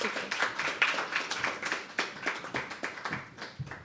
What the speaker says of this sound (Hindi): एक बार और जोरदार तालियां हर्षिता के लिए दोस्तों